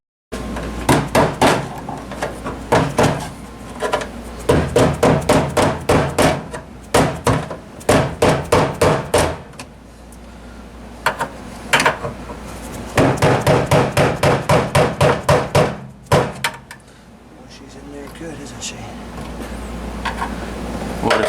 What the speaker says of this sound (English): taking the hammer and hitting the screwdriver right here and spinning it around